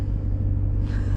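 A Ram TRX pickup truck's engine rumbles low and heavy in a brief, close burst, with a slight airy hiss rising near the end.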